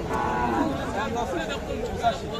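A cow lows at a busy cattle market where cows and calves are sold, heard amid steady crowd chatter and nearby voices.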